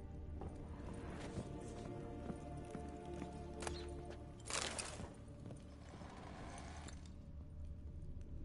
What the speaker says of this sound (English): I like how I can call my horse in this tower.